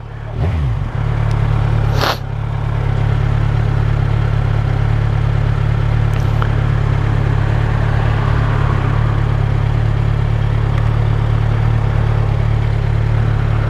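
A Kawasaki Z1000SX Ninja 1000 ABS sports tourer motorcycle rides out on a test ride, its engine a loud, steady, close hum with wind noise and a brief passing rush near the start.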